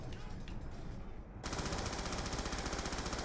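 Gunfire from a Colt pistol crackles in a zombies mode video game. Quieter game ambience comes first, then a sudden burst of rapid, loud, repeated shots runs continuously to the end.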